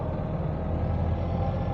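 Steady low engine drone of a 1929 Ford Model A four-door with Briggs body while driving, a continuous close rumble with no voices.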